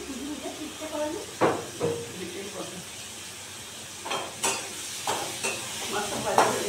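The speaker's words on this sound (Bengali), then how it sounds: "মাছটা ভাজা হয়ে গেছে," Prawns frying in hot oil, a continuous sizzle and hiss with several sharp scraping and clattering utensil strokes over it, with some talk in the background.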